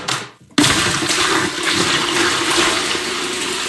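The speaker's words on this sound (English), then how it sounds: "It takes about 2 gallons to flush a toilet, and we go ahead and put it into the tank behind the toilet." A toilet flushed by pouring rainwater into its tank gives a sudden loud rushing whoosh after a brief quiet gap, then continues as a steady close swirl of draining water.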